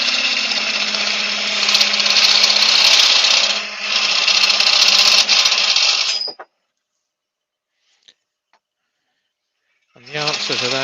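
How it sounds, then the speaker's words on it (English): A wood lathe spins a spindle blank while a parting chisel cuts into it, a loud steady whirring grind lasting about six seconds, then silence, then the turning noise resumes near the end. "I'm going to do that with the parting chisel,"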